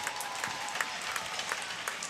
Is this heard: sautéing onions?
no